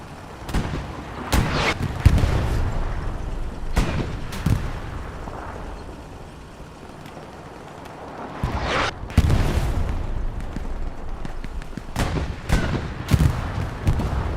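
Artillery fire in Hell Let Loose during a competitive match on Sainte-Mère-Église, a steady string of booming shell impacts and distant gunfire scattered across the stretch, with a quieter lull midway.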